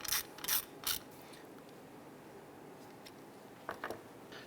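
Screws are tightened down on a rear power window motor of a 1995–2001 Ford Explorer, heard as short bursts of quick ratcheting clicks, three close together at first and two more a few seconds later, with quiet between.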